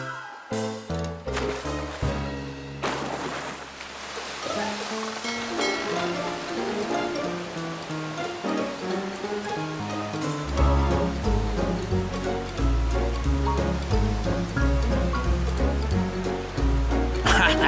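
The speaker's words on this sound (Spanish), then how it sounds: "Wally, haz una corriente de agua que vaya directamente a la ciudad." Cartoon stream of water rushing toward a city, a steady broadband whoosh with surf-like swells that swells louder partway through, layered under bright animated music.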